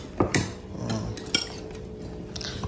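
A spoon clinks against a dish a few times up close, sharp little taps over quiet kitchen background noise.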